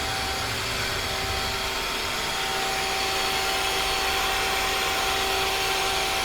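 Mazak CNC lathe with Mazatrol control circle milling on Z and Y axes, turret moving up and down: a steady broadband machine whir with sustained hum tones and coolant hiss, constant and loud with no talk.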